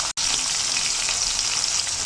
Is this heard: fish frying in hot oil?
yes